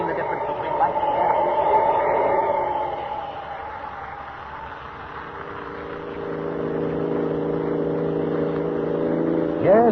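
A car picks up speed along a road as an old radio-drama sound effect, a steady engine drone with rising harmonic tones toward the end, heard beneath a voice.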